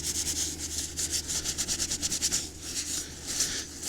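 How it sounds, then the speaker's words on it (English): A stipple brush dabs seam sealant into the fabric seams of a Lanshan 2 Pro tent, giving a rapid series of close, soft, scratchy rubbing strokes in uneven bursts with brief pauses. "Stipple brush is pushing this sealant in."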